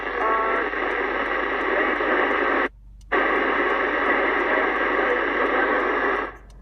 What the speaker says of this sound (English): This is the net control station. You can hear she's very scratchy